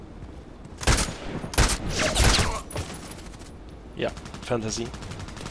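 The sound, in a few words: gunfire from the video game Contract Wars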